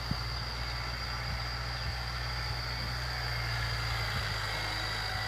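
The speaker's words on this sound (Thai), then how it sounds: "ไกลๆนะครับผมมีรถไถครับ" A distant tractor engine idles in a steady, low, continuous drone across a rice field during jasmine rice sowing, faint and without talk.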